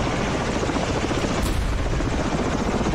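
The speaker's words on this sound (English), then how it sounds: "Then they can't use the helicopter." A Chinook helicopter in the video game Ravenfield drones loudly and continuously with a dense, throbbing rotor roar filling the whole clip, close and unbroken, with no talk.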